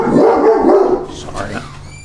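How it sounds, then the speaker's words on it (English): A dog barks several times close by, its yips and barks overlapping with people talking in a room. "You got some attack dogs."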